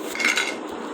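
A metal wok (kadai) is set down on a kitchen stove with a brief, close metallic clink and scrape, followed by a faint ringing.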